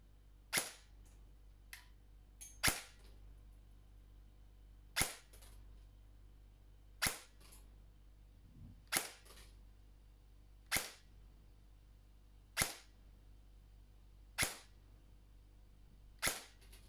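A VFC M4 Avalon Calibur CQC airsoft electric gun fires single shots, each a sharp, crisp snap, spaced about two seconds apart in a quiet setting, around nine shots in all.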